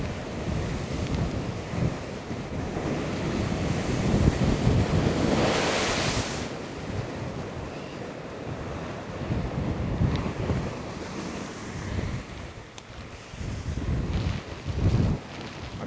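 Storm waves crash against the Dawlish sea wall at high tide, a continuous roaring surf with heavier surges, mixed with strong wind buffeting the microphone.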